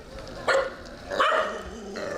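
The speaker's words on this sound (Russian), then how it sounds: "Так разгавкались на меня." Dogs in a street in India bark at the camera operator in two sharp bursts, moderately close over steady background noise.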